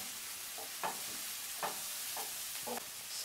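Chopped cabbage and vegetables stir-fried in a pan for vegetable fried rice, with a steady soft sizzle broken by a few sharp scrapes and clacks of a spatula, close and moderately quiet.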